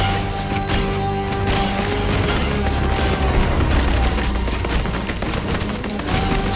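A cluttered burst of video game combat from REMEDIUM: Sentinels, with booming blasts and rapid firing layered over a dense, steady wall of music and effects, loud and continuous with no clear single explosion standing out.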